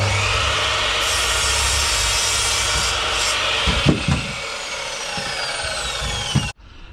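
Steady, loud power-saw noise runs for about six seconds while timber pieces are cut to 800 mm lengths for a garden frame, with a few brief knocks near the end before it stops abruptly.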